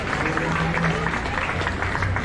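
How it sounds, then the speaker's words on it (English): An audience applauds at the 2021 Butler County Fair 4-H and FFA beef show for the foundation exhibitors. The clapping is dense and steady, with a voice over it. "if you would give a big round of applause"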